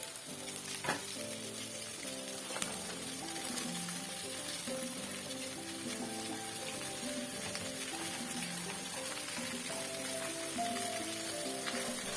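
Cauliflower pieces sizzle and crackle steadily in a pan of hot oil, a continuous close frying hiss with occasional stirring clinks throughout.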